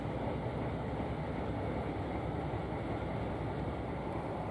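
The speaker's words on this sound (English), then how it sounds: "the train returned to the club's depot near Junkers" A heritage train in Denmark running near Køge, a steady low rumbling roar of wheels and carriage noise, constant and fairly loud with no break.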